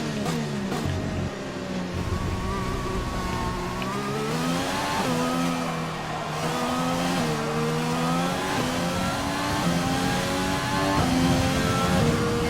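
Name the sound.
race car engine in video game F1 2020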